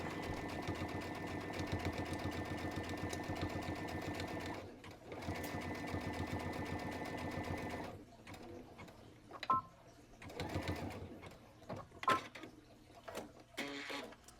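A sewing machine stitches fabric for a dress bodice, running in a fast, steady mechanical whir for about eight seconds before stopping, followed by quieter handling clicks and taps.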